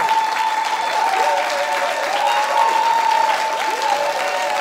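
Loud, sustained applause from a crowd, steady clapping and a few cheers filling the whole stretch without pause.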